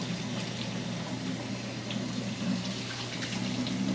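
Food being washed by hand in water, a steady close wash of running and sloshing water with constant splashing throughout and no talk.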